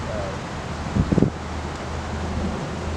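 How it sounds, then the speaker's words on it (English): Wind blowing outdoors during a dog obedience demonstration, a steady broad rushing and buffeting across the microphone, with a brief burst of nearby voice-like sound in the middle. "it's getting windy out here"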